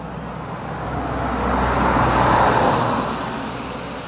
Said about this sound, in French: il y a des voitures qui passent